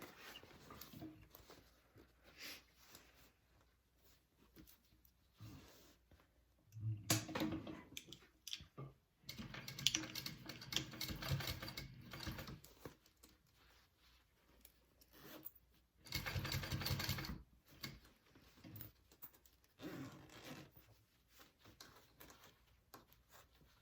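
Sewing machine stitching a divider bag, running in short bursts of rapid mechanical whirring separated by quiet pauses, fairly close and quiet.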